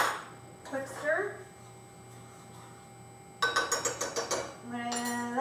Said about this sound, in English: Quick stir.